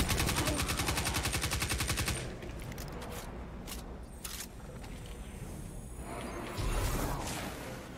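Video game gunfire comes first as a dense, rapid machine-gun burst at steady volume, then gives way to scattered single shots, clicks and whooshes, followed by a shorter renewed burst near the end.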